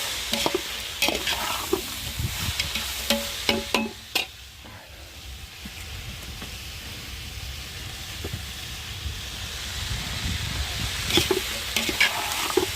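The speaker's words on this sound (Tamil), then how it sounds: "சேர்த்துட்டு நல்லா வதக்கணும் பாவக்காய்." Bitter gourd being sautéed with chicken masala and tomato juice in a pan, a steady low sizzle with repeated scraping and stirring clatters from a spatula, close and moderately loud, with no voices.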